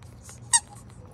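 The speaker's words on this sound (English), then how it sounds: "She loves squeaky toys." A squeaky plush dog toy shaped like food gives one short, sharp squeak, close and fairly loud against a quiet background.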